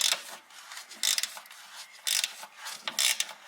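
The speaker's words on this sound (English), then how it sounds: "I'm going to go ahead and stick this on top. And we are basically just going to turn this counterclockwise." Gear wrench ratchet turning a suspension stud counterclockwise on a 1998-2004 C5 Corvette, a series of close, crisp clicking bursts repeating about once a second with no talk.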